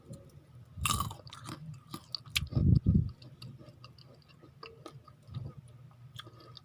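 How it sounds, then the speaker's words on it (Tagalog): Crunchy chewing of home-cooked fried garlic and peanuts (adobong mani): uneven bursts of close, crisp crunching with a few louder bites, no talking. "narinig nyo na po kung gaano kalutong yung ating niluto na bawang at mani"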